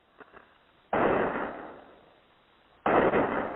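Two sharp, loud bangs, heard as gunshots on a hoax 911 call about a gunman at a North Carolina high school, come through a narrow telephone line, each followed by a decaying rush of noise.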